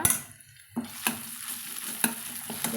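Crushed ginger and garlic fry in a pan while being stirred, with a steady sizzle and a few sharp scrapes of the spoon against the pan, close and alone without talk.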